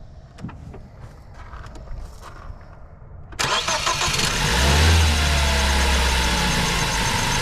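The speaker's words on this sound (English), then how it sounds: "start it again and give it a little fuel while you're sitting here" A 1960 International tractor engine is cranked and catches about midway, then runs with a loud, rough idle and a low knocking rumble that swells as fuel is given, after a quieter stretch of faint handling noises.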